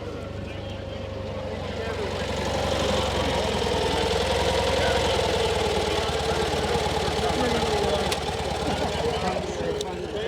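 A 1957 French classic car's engine starts from a pull and runs steadily at idle with a knocking mid-range chug, close and loud for about ten seconds at an outdoor antique and classic car meet.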